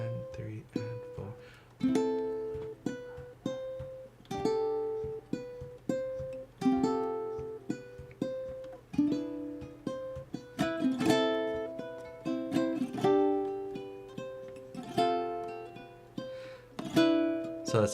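Guitar chords of a love song progression strummed in a steady rhythm, each strum ringing out with bright harmonics before the next, played close and clear with no talking.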